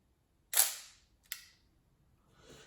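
The shutter button of a Nikon FM2n manual film camera snaps a loud sharp mechanical click, followed by a second fainter click and a soft rustle, close up in an otherwise quiet room.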